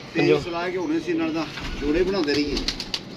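Pigeons cooing close by, two low, rolling coos in succession with faint rustling underneath.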